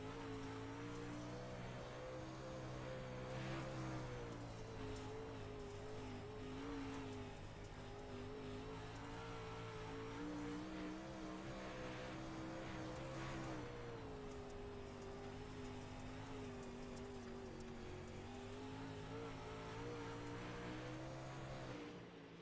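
A dirt late model race car laps Port Royal Speedway, heard onboard: a loud, steady engine drone that rises and falls in pitch through the corners and straights, continuous for the whole lap with no talk.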